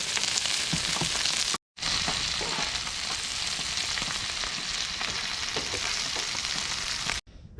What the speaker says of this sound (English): we're making some more hash browns, bacon